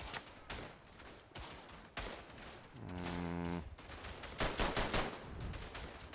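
Gunfire from rifles and machine guns in the World War I shooter Verdun, with rapid sharp shots and bursts of fire, a sustained tonal blast partway through, loud and close throughout.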